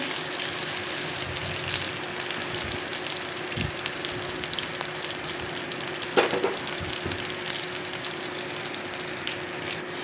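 Pointed gourd and onions fry in a pan until browned, making a soft, continuous sizzle and crackle. A brief clatter of stirring comes partway through, and there is no talking.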